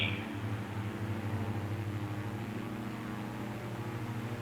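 Steady droning aircraft engine in Microsoft Flight Simulator, held on the parking brake while RPM is cranked up, a constant tonal hum with layered low harmonics and a faint whine, no voices.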